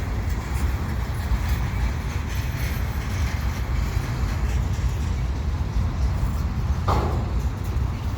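A train rumbles steadily past at Dorval station in the evening, a continuous moderate rolling drone with faint rail clatter throughout and one brief sharper squeal or clank near the end, no voices.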